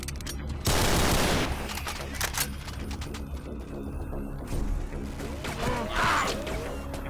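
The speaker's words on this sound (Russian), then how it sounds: "Кто стреляет?" Dense bursts of gunfire in Brutal Doom, loud and continuous, with a heavy volley near the start and repeated shots layered over game noise and monster sounds.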